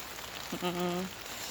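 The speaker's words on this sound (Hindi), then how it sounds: "तो आज बहुत बारिश है, देख सकते हैं।" Heavy rain falls in a steady broadband wash while someone walks to work, with a brief tonal sound rising briefly through the middle.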